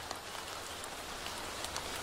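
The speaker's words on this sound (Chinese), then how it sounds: "不久之后开始下起大雨" Heavy rain falls as a dense, steady hiss of drops on surfaces, loud and continuous for two seconds, with no voices.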